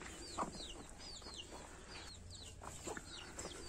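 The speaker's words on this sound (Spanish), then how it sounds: "Por aquí andan los pollitos. Y ahí está mamá gallina." A hen clucks softly near her chicks outdoors, with several thin high peeping calls from the chicks scattered across the brief, fairly quiet scene.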